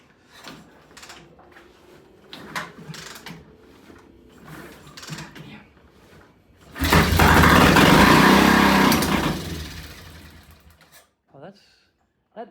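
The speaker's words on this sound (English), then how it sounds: "that is the weirdest carburetor failure I've ever heard in my life" A T20M motorcycle with a failing carburetor starts and runs briefly with a harsh, buzzing rattle, loud and close for about four seconds, after a stretch of people talking and light clicks; talk resumes as it stops.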